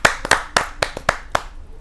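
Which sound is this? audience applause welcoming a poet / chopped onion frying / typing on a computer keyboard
audience applause welcoming a poet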